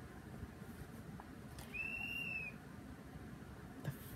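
A single thin, high whistle sounds briefly from outside, faint and distant, over a low steady background hum.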